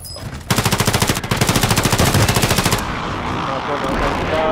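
Rapid automatic gunfire in a ranked video game match bursts out close and loud in a fast, evenly spaced stream for about two seconds, then gives way to quieter game ambience.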